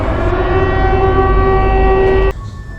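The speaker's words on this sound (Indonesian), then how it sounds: "ketika sirine kembali terdengar" A steady, droning wail with stacked harmonic tones holds loud and even, then cuts off abruptly near the end, leaving a quieter rumbling background.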